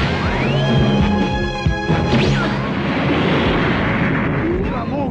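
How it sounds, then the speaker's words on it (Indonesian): A sharp cartoon explosion crash bursts out, followed by a rumbling, crackling blast that fades over several seconds, with whooshing sweeps. "hantu pembunuh diri milik Gotenks, yang membuat hantu itu meledak tanpa membuat Super Buu terluka."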